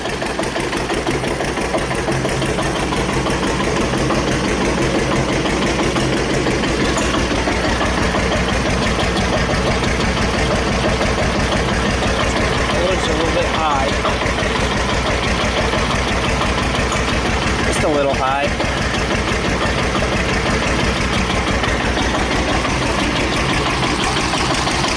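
A 1941 Witte one-cylinder diesel electric plant engine runs steadily with a fast, even chugging thump, loud and close, continuous throughout without any speech.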